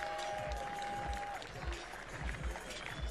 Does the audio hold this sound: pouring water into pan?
no